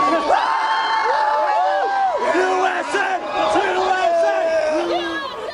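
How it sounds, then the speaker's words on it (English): A large street crowd of college-age Boston kids, half naked and half drunk, cheers for martial law with loud, sustained whoops and yells. Overlapping voices rise and fall continuously throughout. "crowds of Bostoners, many of them college-age kids, half naked and half drunk, actually cheering for martial law"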